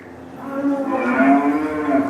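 A cow moos inside a dairy farm shed among heifer calves and pregnant cows, one sustained tonal low that swells midway and holds, close and fairly loud over a steady barn background.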